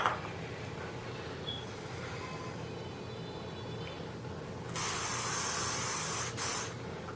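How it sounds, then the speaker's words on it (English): A soft background hiss gives way to a loud, steady burst of hairspray lasting about two seconds, briefly cutting out once before continuing, close and with no talking. "you can spray the sections like after you smooth them with your workable spray or your light hold hairspray"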